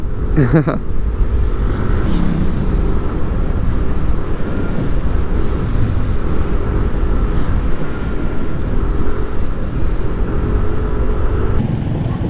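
Steady, loud road traffic rumbles near the town market in Angat, Bulacan, with a continuous engine drone and some wind buffeting throughout and no clear breaks.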